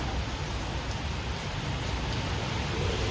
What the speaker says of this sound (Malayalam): മഴ തുടങ്ങി